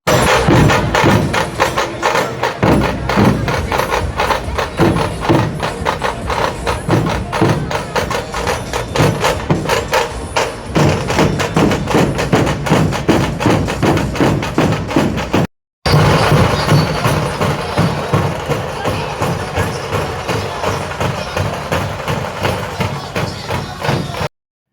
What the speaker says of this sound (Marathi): नंतर आपण गेलो नाशिक ढोल.